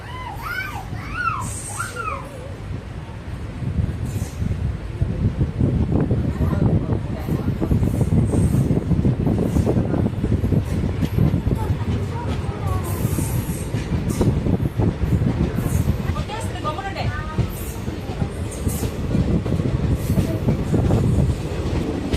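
A passenger train hauled by two WAP 7 electric locomotives runs steadily near Tirupattur railway station on the Jolarpettai line, a continuous loud rumble of wheels and carriages with occasional higher squeals and clatter throughout.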